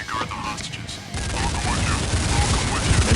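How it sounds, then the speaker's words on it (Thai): Magnum sniper rifle fire in Counter-Strike 1.6, a dense burst of game gunfire and booming impacts that turns into a continuous loud clatter after the first second, with a voice partly underneath. "เดี๋ยวลองใช้ รหัส B 1 4อันนี้หรือที่เขาเรียกว่าแมกนัมนะครับ"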